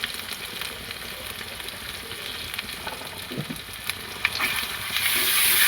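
Turmeric and chili powder with ground ginger paste fry in a pan for a vegetarian potato curry, giving a steady close sizzle with soft stirring scrapes that swells louder near the end.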